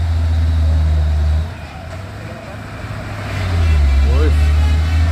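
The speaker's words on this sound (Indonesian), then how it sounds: "Iya, ini ada dam truk Fuso." A Fuso dump truck drives on a hillside road, its loud diesel engine droning close by, easing off briefly and then swelling again as it pulls past, with a short squealing brake-like tone near the end.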